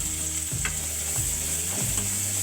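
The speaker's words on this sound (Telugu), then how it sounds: "ఇప్పుడు ఇదే ప్యాన్లోనికి మరి కాస్త ఆయిల్ని వేసుకుని 1 కప్పు ఆనియన్స్ని వేసుకుని" A cup of onions fried in oil in a pan gives a close, steady sizzle with a background hum, broken by a few spatula scrapes and taps, and nobody talks.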